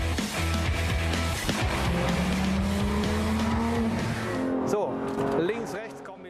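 A Porsche 911 GT3 RS with PDK dual-clutch gearbox sweeps fast through S-curves, its loud engine note rising and holding with a faint tire squeal, then fading toward the end, with a voice talking over it.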